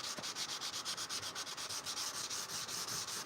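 Sandpaper is worked by hand along a blade of wrought iron and high carbon steel in steady back-and-forth strokes, giving a close, rhythmic, raspy scraping with no talking.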